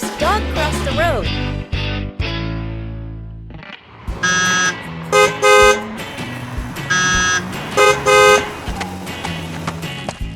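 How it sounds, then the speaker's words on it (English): Car horns honk in busy cartoon traffic. Loud, bright toots sound in short bursts and overlapping blasts over a rumbling street background, after some earlier horn-like tones. "Because of the noise, Dog is struggling in the busy traffic."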